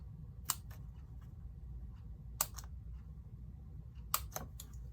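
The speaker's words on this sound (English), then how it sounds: "cut some of my dimensionals" Scissors snipping dimensional adhesive pieces for a fall stamping craft project: three close, crisp pairs of cuts spaced about two seconds apart, quiet against a low room rumble.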